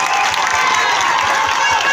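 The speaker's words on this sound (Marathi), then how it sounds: "सर्वांनी टाळ्या वाजून त्यांचं खरं स्वागत केलं पाहिजे." A crowd at a Dahi Handi celebration in a street square, Dombivli, claps and cheers in a dense, loud, continuous wash of applause with scattered shouts.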